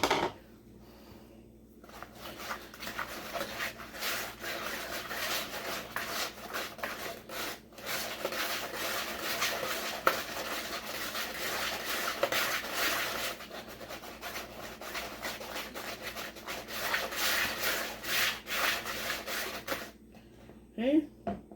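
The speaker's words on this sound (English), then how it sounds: "Now we're going to whisk in 1 egg at a time." An egg is whisked into a butter and sugar cake batter by hand, giving a long run of quick rhythmic scraping strokes against the bowl with brief pauses, while a person talks over it.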